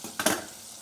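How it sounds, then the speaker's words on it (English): A brief burst of hissing sizzle from fresh pork side bacon in a hot frying pan, rising sharply and then settling into a softer, steady crackle. "It was sizzling real hard"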